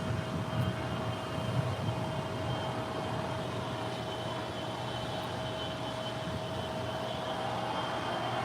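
A Korean Air Boeing 777 pushes back at LAX, heard as a steady, moderately distant jet engine hum with a constant whine, droning evenly without breaks.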